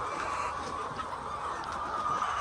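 Novogen layer hens on a poultry farm clucking as a dense, continuous flock murmur, steady and fairly close, with no talk over it.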